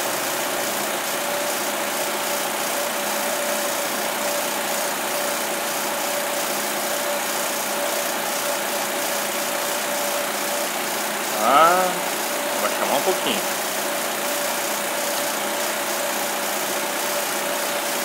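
A rebuilt engine in a Fiat Strada idles steadily with a low, even drone, joined briefly by a few short voice-like sounds midway.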